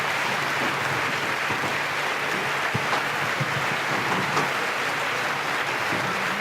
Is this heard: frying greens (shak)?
no